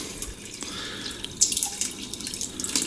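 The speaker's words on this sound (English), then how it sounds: "The water flows better with that in" Water flowing and tumbling through a SpyGlass reactor in a reef aquarium, a continuous close trickling and splashing with a few brighter drips and surges, no talk over it.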